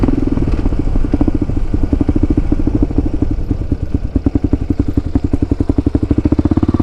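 Single-cylinder 650 dual sport motorcycle engine under way, a loud, close, thumping beat whose pulses quicken and grow more distinct as the revs climb, with no talk.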